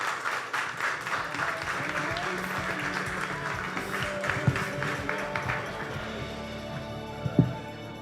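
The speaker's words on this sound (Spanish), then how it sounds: "Un aplauso a Kevin Rodríguez." An audience at a tech event applauds for a presenter, giving a steady patter of many hands clapping at moderate volume that thins out toward the end, with a few louder knocks mixed in.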